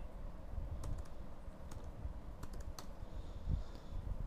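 Quiet typing on a computer keyboard, scattered light key clicks over a soft background hum, with no talking.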